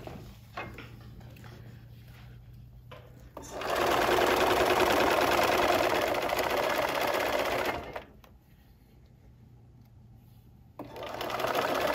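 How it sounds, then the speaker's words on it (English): A sewing machine stitching a seam along the edge of a fabric trunk piece for a Christmas tree quilt block, running in a steady whirring burst, stopping, then starting again up close. "I'm gonna sew the seam following this edge on the trunk piece"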